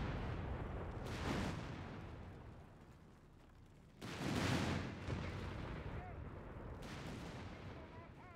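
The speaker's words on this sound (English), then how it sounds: "Machine gun has been destroyed." In the Company of Heroes game, gunfire and explosions destroy a machine gun, producing three rumbling blasts spaced a few seconds apart over continuous battle noise.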